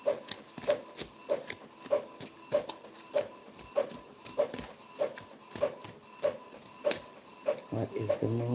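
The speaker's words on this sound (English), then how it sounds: "I'm sorry, my printer is mad loud" A loud desktop printer at home runs through a job, its print head clacking in a steady, evenly spaced rhythm about every 0.6 seconds, close and alone, with a shuffling mechanical change near the end.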